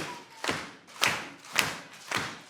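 Hands clapping in a steady slow rhythm, four distinct claps spaced about half a second apart, close and fairly loud with a slightly dull, thudding character, from children in a group activity.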